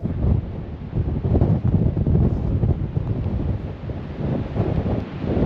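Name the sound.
strong wind at the beach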